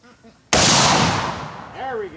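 A single loud, close 7.35 Carcano rifle shot cracks out during hunting-ammo testing, its blast trailing off into a decaying echo, with a brief voice heard just before and after.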